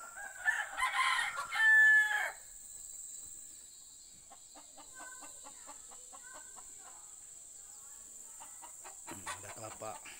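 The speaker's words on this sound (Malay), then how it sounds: "Ini reban ayam." Chickens in a coop at an empty rural house, a rooster crowing loudly near the start and hens clucking faintly through the rest, with insects or birds chirping in the background.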